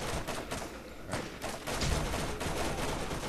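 A turret fires in the Borderlands video game as a dense, continuous barrage of gunfire, loud and close, with thumping impacts mixed into the rattle.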